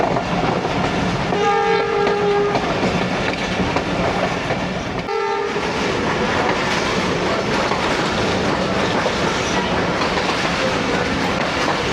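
The Sialkot Express running through a station, a loud, close rumble of wheels and carriages with two short horn blasts near the start, no talking.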